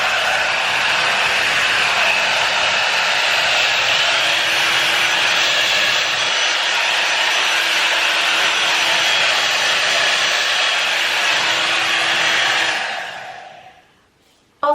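A Wenhsin hair dryer, a Dyson knockoff, blows a loud, steady high whoosh of air for about twelve seconds, then winds down and cuts off.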